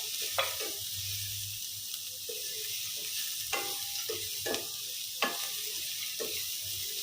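Onions sizzle steadily in a pan with salt, curry leaves and asafoetida for atukula upma (poha): a close, continuous frying hiss broken by scattered pops and soft spatula clicks.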